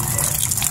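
Loud, steady splash of running tap water from a faucet rinsing freshly harvested pechay leaves, a brief continuous gushing hiss close by.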